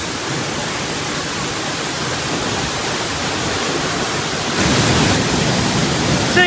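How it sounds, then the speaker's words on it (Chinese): A large, hundred-metre waterfall at Yuntai Mountain thunders in a dense, unbroken roar heard up close, loud and steady, swelling slightly louder toward the end, with no voices over it. "这是我见过水流量最大的瀑布呀"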